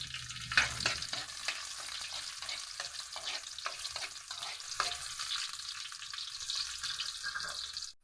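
Onions frying in a pan for a simple Filipino home-style dish, a steady close sizzle with occasional stirring scrapes, heard alone without talk.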